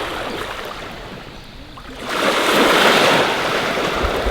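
Ocean waves wash onto a quiet beach at Governador Celso Ramos, Brazil, a continuous close surf hiss that swells louder about halfway through, with wind buffeting the microphone.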